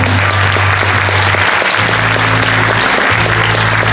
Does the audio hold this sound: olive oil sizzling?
no